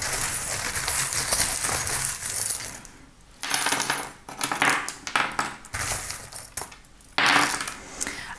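Small metal tarot charms are cast and tumble together, producing bright jangling clinks in several loud bursts separated by short pauses.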